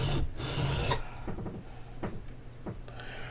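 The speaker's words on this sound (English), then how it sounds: "This is an old school way of sharpening, and I'm using quite a bit of pressure." A knife drawn across a sharpening stone under heavy pressure, old-school style: a loud rasping stroke up front, then shorter, lighter scraping strokes at irregular intervals.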